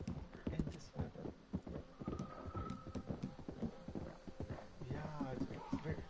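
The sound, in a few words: horse hooves clip-clopping in a PS4 video game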